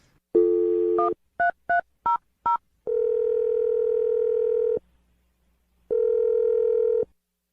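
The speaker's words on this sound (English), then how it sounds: "I'm going to dial the phone number right now" A telephone receiver gives a steady dial tone, then a quick run of six separate touch-tone dialing beeps, followed by a long ringback tone, a silence and a second ring, loud and close with no talk.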